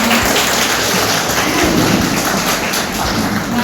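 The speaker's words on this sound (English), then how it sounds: "So big round of applause for them." Audience at a school inter-house English debate applauding, a dense, steady wash of clapping that fills the whole stretch at high level without letting up.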